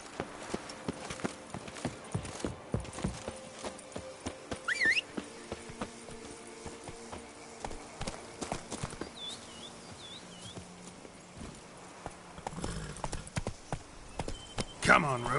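Horse hooves trot in a steady clip-clop rhythm in The Witcher 3: Blood and Wine, up close and fairly loud, mixed with other game sounds and a brief whinny-like cue.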